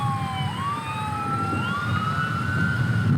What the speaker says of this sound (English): So if you guys do hear some ambulance coming through the park, that's what's going on.